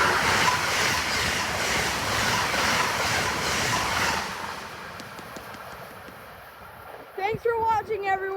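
An Amtrak Northeast Regional passenger train rushes by at night with a loud roaring wash of wheels and wind that fades after a few seconds, followed by a voice speaking close by.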